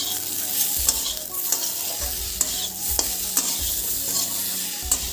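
Potatoes fry in a pan for a paneer curry, seasoned with chili powder and salt, giving a continuous sizzle broken by regular scraping stirs about every half second, close and clear with no talking.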